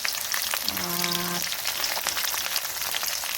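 Garlic and field greens frying in oil: a steady, even sizzle runs throughout at close range, with a short tonal voice-like hum briefly over it early on.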